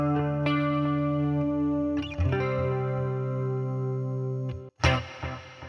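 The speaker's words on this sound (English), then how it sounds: "There is the delay." Guitar played through a Boss Katana MKII amp with delay engaged, sustained chords ringing with trailing repeats, a couple of new strums layered in, then a short gap and one final attack.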